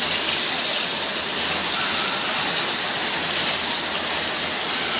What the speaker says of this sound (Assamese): আন্ধাৰ পৰি আছে পুৰা বৰষুণ দি আছে